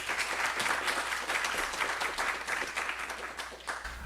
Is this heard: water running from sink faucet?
no